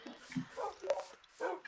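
Several short yips and barks from a pack of dogs in Minecraft, coming in a few separate bursts, fairly quiet and close, with no talking over them.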